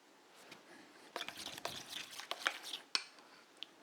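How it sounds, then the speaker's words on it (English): A creamy potato salad with spring onions being stirred in a bowl: soft scraping, light clinks and wet squelches in irregular bursts, quiet and close. "And now we just mix this all up."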